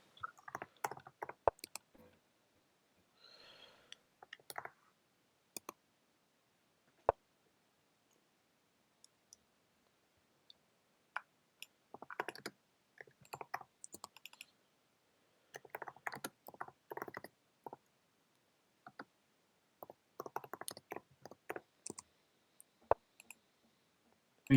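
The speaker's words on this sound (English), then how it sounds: "we can hear Fumi typing" Sparse, faint keyboard typing during an online Crazyhouse chess match, irregular bursts of soft clicks separated by quiet gaps.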